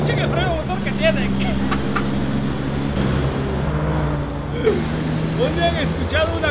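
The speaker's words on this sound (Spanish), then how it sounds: "Escuchen el freno motor que tienen." Toyota Coaster bus on a highway, its engine brake giving a loud, sustained low rumble under road and traffic noise, with someone speaking over it.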